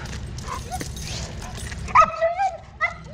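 A dog yips and barks in short bursts while playing with another dog, with whimpery high calls near the end over a low background rumble; a voice briefly talks.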